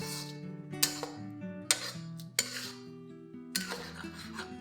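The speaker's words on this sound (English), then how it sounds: "Give this a good mix" Utensil scraping and clinking through a pan of baked beans, egg and mixed vegetables, Chinese style, with several sharp metallic knocks against the pan over a low steady bed of cooking noise.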